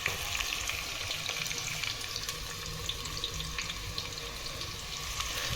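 Onions frying in hot oil for a home-cooked biryani, a steady loud hiss and sizzle that runs unbroken and close, with no talk over it.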